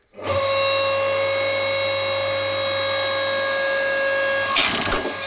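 An AL-KO LSH520/5 horizontal electric log splitter runs with a steady loud motor whine while splitting dry hornbeam, a brief cracking burst near the end as the wood gives way.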